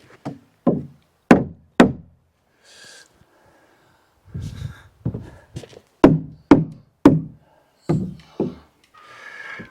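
A hammer drives nails to tack sawmill boards onto a cabin wall. Sharp, ringing strikes come in two quick bursts with pauses between, close and loud, with faint rustling in the gaps.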